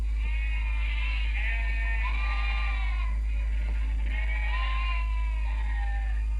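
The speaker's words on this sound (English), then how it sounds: "Hundreds of sheep are rounded up and driven down from the hillsides." A flock of sheep bleats while being rounded up and driven down from the hillsides, several overlapping calls rising and falling over a constant low rumble, with no talk.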